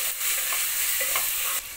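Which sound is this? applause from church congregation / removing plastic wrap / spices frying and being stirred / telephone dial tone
spices frying and being stirred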